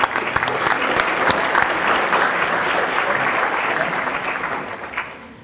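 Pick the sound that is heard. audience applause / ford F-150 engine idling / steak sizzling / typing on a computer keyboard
audience applause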